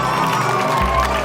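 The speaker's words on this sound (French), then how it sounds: "On les applaudit s'il vous plaît" Schoolchildren at a school spelling competition cheer and shout as a crowd, a loud, dense burst of young voices filling a short moment in a hall.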